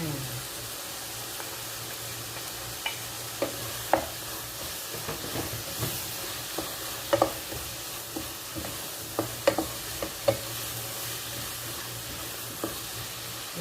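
Okra stirred in a pan with coriander leaves, a steady soft scraping and faint sizzle with scattered clicks of the utensil against the pan, close and moderately quiet throughout.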